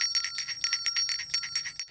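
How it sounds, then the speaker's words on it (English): Families ring handheld bells on their front lawns on Christmas Eve, a continuous, overlapping jingle of many bright bells shaken in quick, uneven bursts, with no voices. "Westgate families decided to go all out on their front lawns this evening and ring bells to celebrate the season together"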